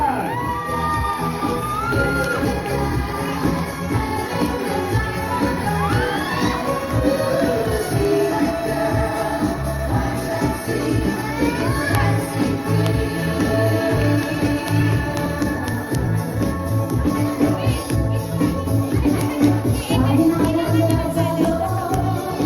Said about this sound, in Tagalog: Bigyan natin ang palakpakan may kasamang hiyawan, our 60th birthday celebrant.